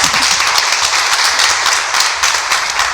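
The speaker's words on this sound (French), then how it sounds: "un tonnerre d'applaudissements" A canned applause sound effect plays loud and close on a local radio show, a thick continuous burst of many hands clapping filling the whole moment.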